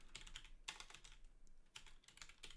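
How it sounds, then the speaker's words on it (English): Very loud computer keyboard typed in quick bursts of sharp clicking keystrokes, close and clear, with brief pauses between flurries and no voices. "My insanely loud keyboard."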